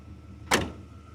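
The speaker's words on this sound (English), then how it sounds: "How nice these doors close." A single solid thud of a car door closing on a 1981 Pontiac Firebird Trans Am Turbo, close and clear against a quiet background.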